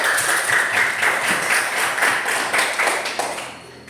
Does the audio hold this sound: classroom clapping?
yes